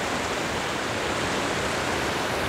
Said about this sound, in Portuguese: uma cachoeira perigosa, cheia de onda